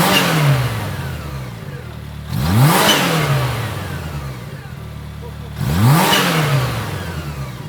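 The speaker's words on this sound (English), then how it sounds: "it would be absolutely criminal if I didn't let you hear that supercharger whine" A supercharged 2026 Kawasaki Teryx 5 H2 side-by-side revs close up in three strong bursts, each rising with a climbing supercharger whine before settling back to a steady idle between them.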